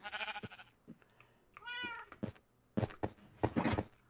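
A house cat meows several times, short clear calls with one longer rising-falling meow in the middle, fairly close, amid light knocks and handling sounds with no talking.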